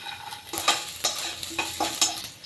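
Garlic frying in hot oil in a pan for samosa filling, a stirring and sizzling sound with repeated scraping strokes roughly every half second, close and fairly loud, with no talk.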